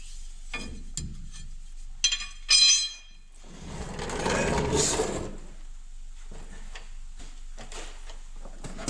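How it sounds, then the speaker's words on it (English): Prying out a rear pinion seal on an 89 Toyota makes scattered metallic clicks and taps, a brief sharp scrape, then a longer grinding, scraping stretch, all close and fairly faint. "just need to pry this seal out of here"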